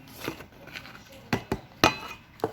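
Two eggs cracked and dropped into a bowl for pancake batter, giving a few sharp, close clinks and taps against the bowl, spaced out, with quieter faint knocks before them.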